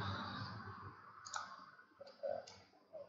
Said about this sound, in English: so I'm going to press Control on keyboard